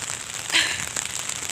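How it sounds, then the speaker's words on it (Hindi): Heavy rain pours down outside, giving a steady, dense hiss with scattered crackling drops and nothing else over it. "गंदी वाली बारिश हो रही है ना, मतलब पूरा बारिश से पूरा गीला हर जगह।"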